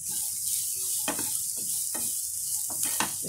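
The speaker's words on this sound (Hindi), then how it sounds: "देखिए सब्जी को हमें हल्का हल्का फ्राई करना है" Mixed vegetables with carrots fry lightly in a pan under a soft continuous sizzle, while several short spatula scrapes and stirs cut through at close range.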